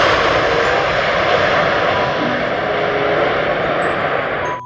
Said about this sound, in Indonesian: Kalau yang ini pesawat terbang kargo.